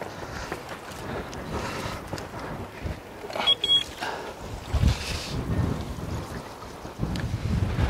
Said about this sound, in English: The winds are gusting, I think they said 60, 70 mile an hour.